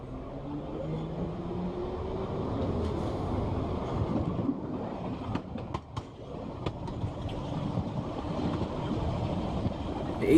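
A London Underground train rumbles along the eastbound local line between Hammersmith and Barons Court, with a low continuous drone, some rattling clicks midway and a brief rising whine.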